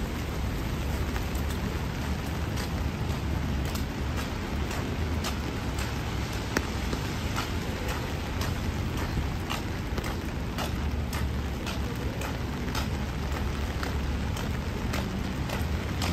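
Light rain falls steadily on a Midtown Manhattan street in New York City, a continuous close hiss of drops on pavement with faint scattered ticks and distant city noise throughout.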